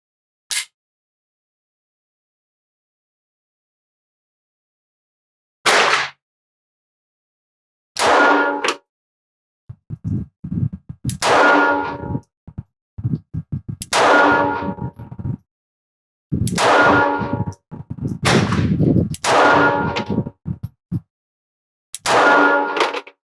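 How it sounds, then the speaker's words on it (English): A Springfield Hellcat 380 pistol fires shots on a range, each sharp, loud report separated by silence at first and then coming in quicker irregular bursts with some following clatter. "Hellcat 380, center target, 10 shots."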